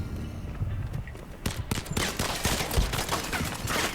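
Modern Combat 5 gunfire crackles in dense bursts of shots, a sustained fusillade of rapid sharp reports that grows busier and louder through the second half, with no talking.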